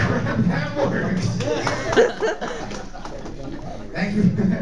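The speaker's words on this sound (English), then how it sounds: "Thank you for that round of applause." A comedy club audience at Nomads claps and laughs after a joke, a warm mix of chuckles and scattered applause that dips in the middle and swells again toward the end.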